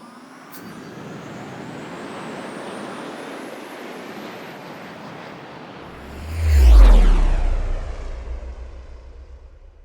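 An airplane takes off, its broad engine roar building steadily, then a loud, deep rumbling swell peaks near the end as it passes close and begins to fade.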